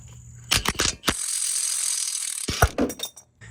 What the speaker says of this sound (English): Now I'm going to remove these two bolts holding the strut in.